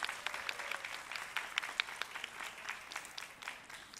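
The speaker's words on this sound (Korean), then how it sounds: "여러분 박수 한번 부탁드릴게요." Fans at a Busan sports send-off event applaud in a steady patter of many hands, fairly faint and somewhat distant, without speech over it.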